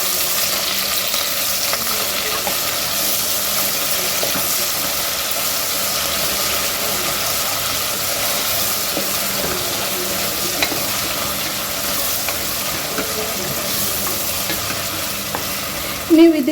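Lengthwise-slit green chillies frying and being stirred in a pan, a steady close sizzle with soft scraping running throughout, alone and without talk.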